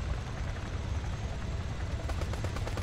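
A helicopter in the Arma 3 video game thumps and roars steadily at full volume, with a dense low rotor drone throughout and sharper rhythmic pulses near the end, no voices over it.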